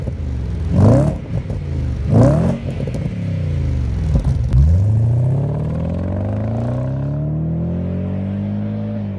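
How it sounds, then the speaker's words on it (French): An Audi S6 with a 4.2-litre V8 revs hard twice, then climbs through a long sweeping acceleration and settles into a steady, loud engine drone, close and without talk. "Alors on retrouve sous le capot le V8 Audi 4 litres 2."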